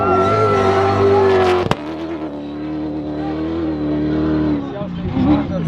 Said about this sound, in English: here is our first car coming past